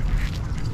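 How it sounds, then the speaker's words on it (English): Ducks quack at the swimming beach of a lake state park, with a few nasal calls fairly close over low wind rumble. "I'm seeing a lot of ducks."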